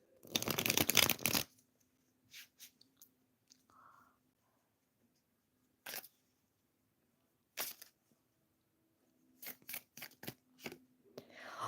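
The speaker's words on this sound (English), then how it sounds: "I'm going to shuffle the cards for Lisa" Tarot cards are shuffled close up: a long, loud riffle at the start, then short, scattered flicks and riffles with quiet gaps between them.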